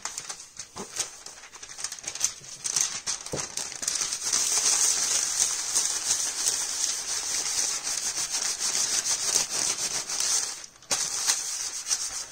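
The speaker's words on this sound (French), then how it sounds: "au fur et à mesure où on frotte, on voit le dessin qui apparaît" Paper rubbed by hand over an inked Tetra Pak engraving to pull a print, a steady close hissing rub of strokes back and forth that runs for several seconds, dips briefly, then resumes.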